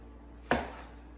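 A single sharp chop of a slam-style kitchen chopper through a serrano pepper, a close, crisp thud that rings briefly and fades, otherwise quiet.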